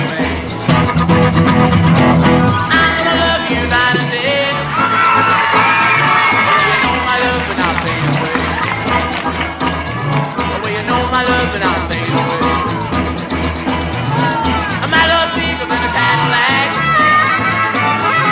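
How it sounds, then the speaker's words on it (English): Crowd screaming and cheering wildly over a loud rock recording, dense continuous whoops and yells blended with music, sustained throughout. "There's everybody going crazy in the crowd."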